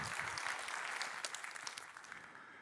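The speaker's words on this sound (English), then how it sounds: "Give him an applause." Audience applause at a lightning talks event, dense steady clapping from a crowd throughout, fairly close and moderately loud.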